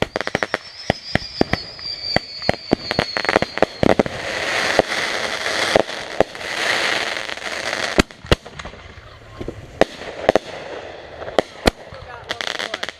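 Backyard fireworks on a festive night, dense rapid bangs and crackles of firecrackers with a whistling rocket early on, loud sharp pops scattered throughout, with people talking in the background.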